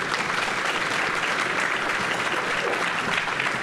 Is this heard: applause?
yes